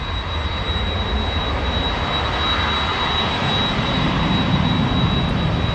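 TUI jet airliner at Manchester Airport, a steady broadband engine roar that swells slightly as it draws nearer, heard alone without speech.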